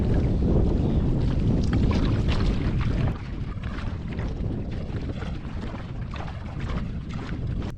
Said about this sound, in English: Oh no, there's some gusting.